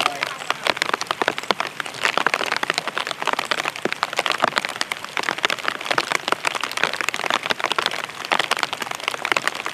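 Heavy rain pelting down during a storm around a Belarus MTZ tractor in a field, a dense, constant crackling patter with sharper hits, close and loud throughout.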